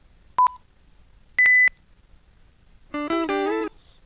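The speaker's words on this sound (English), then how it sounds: "the beeps that we prepared before the filming of the music videos" Sync beeps on a music video audio track: two short, clean electronic tones a second apart at rising pitch, then a brief burst of synth music, loud and close over silence.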